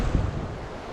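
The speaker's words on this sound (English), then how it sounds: "that wind's kicked in a little bit as well" Wind gusting by a river during fly fishing, a brief rush of buffeting noise against the microphone that is strongest at the start and then settles into a steady broad hiss.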